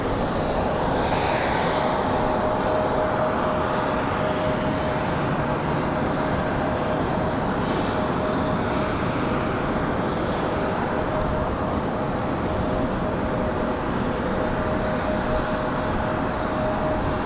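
A United airliner taking off from Raleigh-Durham airport, a broad, steady jet roar that stays loud and even for the whole stretch, with a faint tonal whine riding over it and no talk.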